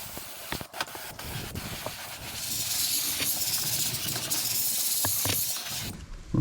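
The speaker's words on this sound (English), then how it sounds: "then we can spray some Fahrenheit inside it." Fahrenheit rust-protection aerosol sprayed into a body cavity of a 1964 Volkswagen Beetle under restoration, a steady close hiss lasting several seconds after a few clicks and clunks, then cutting off.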